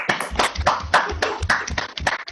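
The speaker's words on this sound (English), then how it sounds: "let's all give her a round of applause" A few people at an online society meeting clap close to a microphone, a short run of loud, uneven handclaps with no talking over them.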